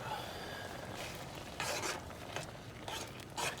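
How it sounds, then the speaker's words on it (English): A spoon stirs chopped serrano peppers through a simmering chicken tomato sauce, giving a soft, steady sizzle with a few scraping strokes against the pan, quiet and close. "2 chopped Serranos. Mix that up."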